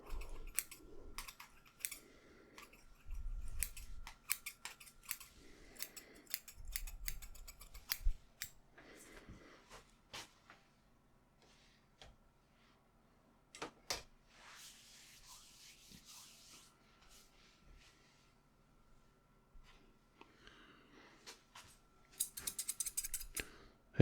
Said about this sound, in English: I have my thinning shears right here.